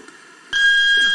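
After a moment of quiet, a loud, steady electronic fire alarm tone abruptly starts and holds, a sustained piercing beep.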